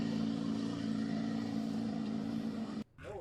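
A loud engine revs high and holds a steady droning pitch close by for nearly three seconds, then cuts off abruptly, leaving a brief quieter sound.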